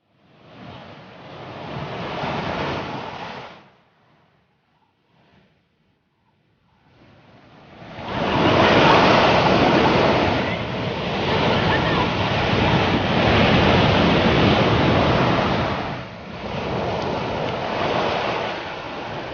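Sea waves wash onto a beach in a broad, rushing roar, near and steady, with a quiet lull early on before a sustained surge, mixed with wind noise.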